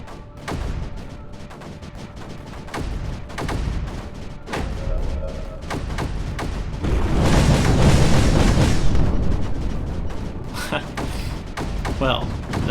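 Mortars firing in the video game Creeper World 4, a run of repeated booms and thuds over a busy layer of game effects, with a voice talking over them.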